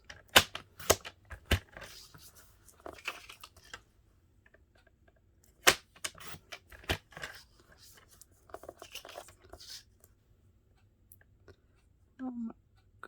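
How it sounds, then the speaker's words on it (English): Card strips being cut on a paper trimmer: a series of sharp, close clicks and slicing snaps scattered irregularly, with quieter handling sounds and talk in between. "So I'm going to cut 4 at 1 centimeter."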